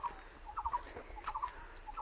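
A barbet calls in a forest of sissoo trees, repeated hollow tonal notes in short bursts, moderately distant against a quiet background with no talking.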